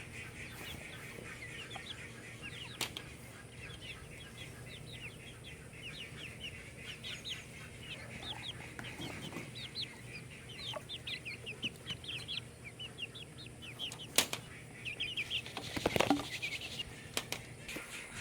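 Chickens and young chicks in a small cage cluck and chirp softly throughout, with a few rattling wing flaps and scuffles near the end, all fairly quiet.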